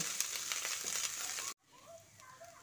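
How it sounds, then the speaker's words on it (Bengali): Ginger and green chilli tempering sizzles steadily in a pan with light stirring scrapes, then halfway through the sound cuts out abruptly and only faint quiet background noise remains. "আদা ও কাঁচা লঙ্কাটা দিয়ে একটু ভালোভাবে ফোড়নটাকে ভেজে নিচ্ছি"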